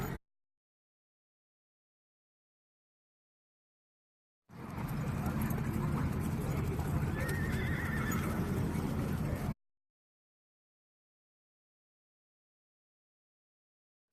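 After silence, a gray horse whinnies loudly amid hoofbeats and outdoor noise for several seconds, then everything cuts back to silence.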